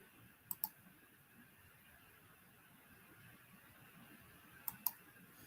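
Two quick pairs of faint keyboard clicks, one near the start and one near the end, with quiet background hiss between them.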